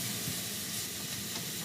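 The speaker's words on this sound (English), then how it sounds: "So now that the onions are caramelizing, we're going to put together the rest of our ingredients." Onions caramelizing in a pan give a soft, steady sizzle and crackle, faint and even throughout with a hissing edge and no voices.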